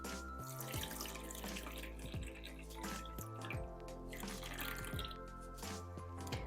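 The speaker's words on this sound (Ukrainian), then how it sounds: "вливаю воду. Вода в мене кімнатної температури." Room-temperature water poured into a container of sugar and salt for pizza dough, with a gurgling, rising tone as it fills, steady and close, no talking.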